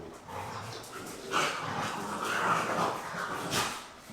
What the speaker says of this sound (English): even the dogs are over there fighting over it